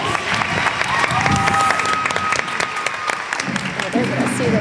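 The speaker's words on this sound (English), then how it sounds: "Let's give John a round of applause." A stage show audience claps and cheers steadily for several seconds, a dense wash of applause with a few voices rising through it.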